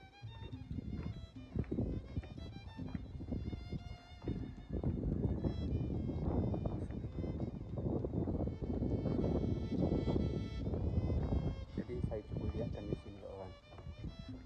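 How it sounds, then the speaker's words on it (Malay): Wind blows over a Malay village on Jemaja island, a continuous broadband rush with gusts that swell and fade and buffet the microphone throughout. "Dah mulai turun angin."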